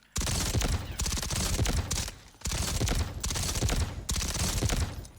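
Repeated automatic bursts from new guns in the shooter Delta Force, loud and close, firing in three long sustained strings separated by brief pauses.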